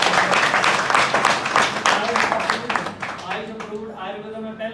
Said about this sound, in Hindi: इसके लिए तालियां बजा दो